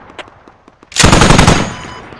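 Burst of automatic gunfire in a first-person shooter match, a rapid loud volley of about a second after a few faint clicks, ringing out alone with no talk.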